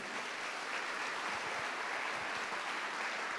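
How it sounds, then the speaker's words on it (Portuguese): A church congregation applauds for a feast day, with dense, continuous clapping that fills the space evenly from start to end. "Um salve de palmas São Domingo de Gusmão."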